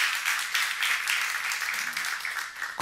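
An audience at a church seminar gives dense, continuous applause from many hands clapping together, steady and fairly loud before tapering slightly near the end.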